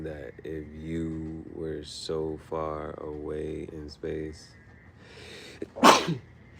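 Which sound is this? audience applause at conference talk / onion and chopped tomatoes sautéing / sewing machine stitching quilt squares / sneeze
sneeze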